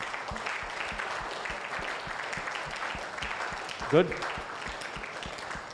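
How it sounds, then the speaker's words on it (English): An audience claps at a group sharing session, a steady patter of many hands running throughout at moderate level while a person speaks briefly in the middle. "clap for them"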